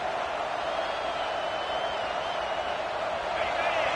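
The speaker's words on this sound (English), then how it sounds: "This crowd, full throat, splitting the eardrums and letting him know it's going to be a long day." A packed college football stadium crowd at a Kent State versus Penn State game roars in a dense, continuous wall of noise that stays loud and steady throughout, with no clear individual voices.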